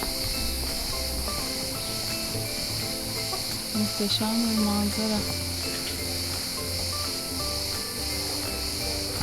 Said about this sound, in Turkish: Ağustos böcekleri sabahtan başlar